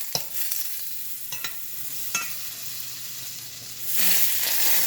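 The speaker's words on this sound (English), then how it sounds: "I'm going to add just a little bit of butter to my pan, and I already have that heating up" Butter sizzling in a preheated pan as it is stirred, a faint hiss with scattered scraping clicks, then a louder, fuller frying crackle near the end.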